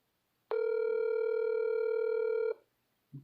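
A telephone sounds one steady electronic tone lasting about two seconds, close and clear, followed by silence.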